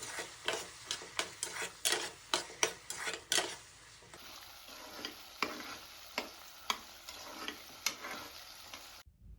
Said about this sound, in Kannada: ಅವರೆಕಾಯಿನ ಚೆನ್ನಾಗಿ ಫ್ರೈ ಮಾಡ್ಕೋಬೇಕು 3 ನಿಮಿಷ